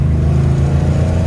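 A 1957 Chevrolet wagon's engine, a barn find running after 20 years off the road, idles loud and close with a steady low rumble and uneven pulsing.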